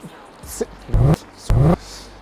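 A car engine with dual exhaust revs twice in quick, throaty bursts with a deep exhaust note, close by, with brief clicks and noise in between.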